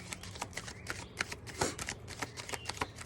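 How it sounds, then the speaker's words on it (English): A tarot deck being shuffled by hand close up, with a rapid run of crisp riffling snaps and flicks of cards, then a card drawn from the deck, all in a quiet room without talking. "I'm just gonna pull one last card."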